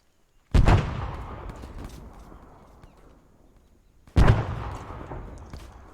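Two frag grenades explode in the military shooter Arma 3 on a grenade training range, each a sharp, heavy blast followed by a long rumbling decay, spaced several seconds apart against near silence.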